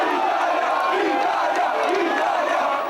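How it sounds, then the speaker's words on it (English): A large Roman crowd cheering Italy's 2006 World Cup-winning team, a dense, loud, continuous roar of voices with rising shouts, sustained throughout. "the crowd cheered its approval"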